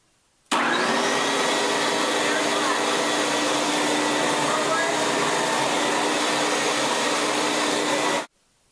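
A Bissell Big Green Professional 86T3 carpet cleaner switches on abruptly and runs with a loud, steady, close motor and suction roar, then cuts off sharply after several seconds, with no talk over it.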